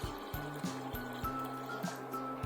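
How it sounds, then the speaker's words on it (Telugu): Water pours quietly onto toor dal in a metal pressure cooker, a soft, steady trickle close by with faint clicks in the background. "ఇప్పుడు కొద్దిగా వాటర్ వేసుకోవాలి"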